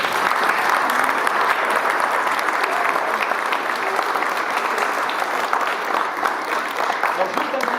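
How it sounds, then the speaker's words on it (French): A concert audience at a music school performance applauding student musicians, sustained thick clapping that stays loud and even throughout, with faint crowd murmur beneath. "Je vous demande de les applaudir très fort pour les encourager."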